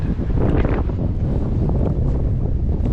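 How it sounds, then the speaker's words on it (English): Strong coastal wind at a harbor town dock in Maine roars and buffets the microphone in loud, continuous rumbling gusts, with no voices. "So I'm going to step out into the wind to get a better view looking northwest into the wind."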